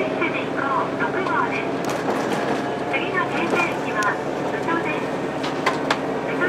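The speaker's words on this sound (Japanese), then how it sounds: "A 列車で行こう6号キハ185系の特急三角駅を発車しました。" A KiHa 185 diesel express train departing Misumi Station rumbles along steadily with a continuous low engine drone and rattling, while a voice talks over it throughout.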